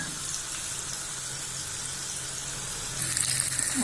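Seer fish slices fry in a pan with a steady, close, even sizzle that holds without pause, growing slightly louder and crisper near the end.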